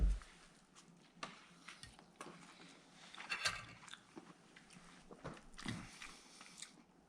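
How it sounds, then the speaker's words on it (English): Biting into and chewing a Jersey Mike's sub sandwich, heard close up as soft crunches and wet mastication sounds in an irregular rhythm, faint and quiet overall. "let's try a bite"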